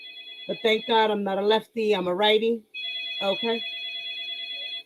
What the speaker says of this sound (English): That's my phone over there.